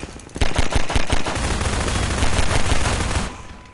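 Loud bursts of rapid gunfire in Half-Life 2 (Synergy mod), a few separate shots followed by a sustained automatic stream that fades out near the end.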